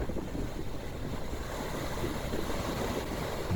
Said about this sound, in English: The waves are pretty wild out here.